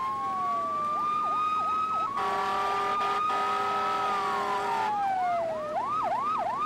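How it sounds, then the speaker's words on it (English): Emergency vehicle sirens during a heavy rain and wind storm, alternating between a rising-falling wail and a rapid yelp, with a horn blast briefly overlapping, fairly close and steady. "you could hear the sirens going off."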